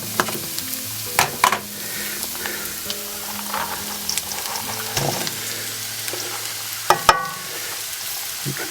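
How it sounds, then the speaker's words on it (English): Garlic, onions and rice for Filipino garlic fried rice (sinangag) stir-fry in a wok with a continuous close sizzle, punctuated by sharp spatula clanks and scrapes against the metal. "now we can incorporate the garlic into the onions and then in with our rice"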